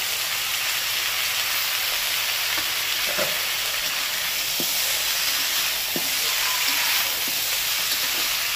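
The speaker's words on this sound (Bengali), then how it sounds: "এই টমেটোর সাথে একসাথে আমি ভেজে নেবো এই যে আদা, রসুন আর কাঁচা লঙ্কা যে বেটে রেখেছিলাম ওটা" Tomatoes frying together with a paste of ground ginger, garlic and green chili, giving a steady broadband sizzle with a few soft stirring clicks, close and continuous, no voices.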